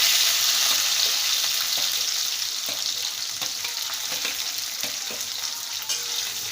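Curry leaves and green chillies dropped into hot oil with spluttering mustard seeds crackle and sizzle loudly and close, a continuous bright frying hiss with occasional small pops and stirring taps.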